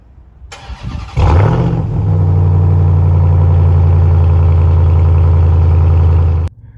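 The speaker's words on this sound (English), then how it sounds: "I'd give you a little cold start on both of these two vehicles" A RAM TRX pickup truck cold-starts: a brief starter crank, then the engine catches with a loud flare and settles into a steady, deep, rumbling idle, heard close and alone until it cuts off.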